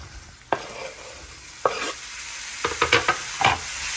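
Spiced vegetarian keema with tomatoes added, frying in a pan and being stirred: a steady sizzle with a few sharp spoon scrapes and clinks spaced out, then a quick cluster of strokes near the end, close and moderately loud.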